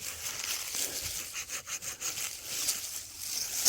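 A hand saw cuts through kudzu root on a mountainside with steady back-and-forth rasping strokes, close by and fairly quiet, with no talking.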